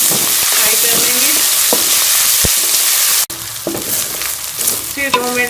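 Onions with garlic-ginger paste fry in a hot pan, giving a steady loud hiss of sizzling oil with occasional clinks and scrapes as a spoon stirs the mixture.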